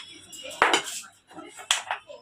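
Soaked chana and matar dal is ground into a paste with green chillies, producing close, irregular knocks and gritty scraping strokes in a short, uneven rhythm.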